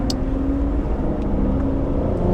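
A 2015-era Aston Martin V12 Rapide S with a ZF transmission, its V12 engine giving a steady, loud, low rumble from inside the car, with no talk.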